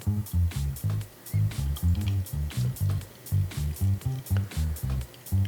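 Brine for dill pickles is poured into a jar, giving a rapid run of gurgling, glugging pulses that bubble steadily and close by, with no voices.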